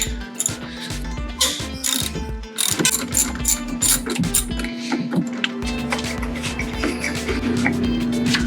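A ratchet wrench works a 13 mm bolt inside a Porsche 914 interior, with rapid clicking bursts and metallic scrapes and knocks close by.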